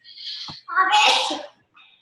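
One sharp sneeze bursts out in a single loud, breathy expulsion after a short intake of breath, heard close up during a team call.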